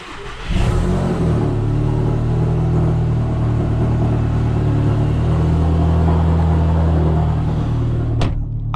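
A Volkswagen GTI engine cranks and catches, then settles into a steady, loud humming idle with a low drone; a brief click near the end.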